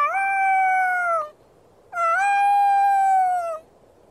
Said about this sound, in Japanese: 子犬が月へ向かい遠吠えをしている。